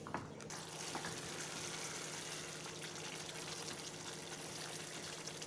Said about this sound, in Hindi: तो अभी हम इसको लगातार चलाते हुए पकाएंगे।